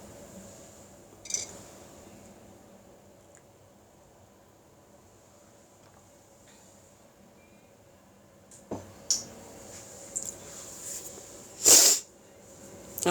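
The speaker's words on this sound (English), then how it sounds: "I sneezed." A single sharp sneeze bursts out near the end of a quiet indoor stretch, preceded by a few faint clinks and rustles while crafting a junk journal.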